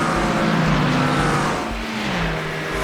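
McLaren 720S GT3 race car held at full throttle in iRacing on the Le Mans circuit, a loud, close, sustained engine roar with shifting pitch through a gear change.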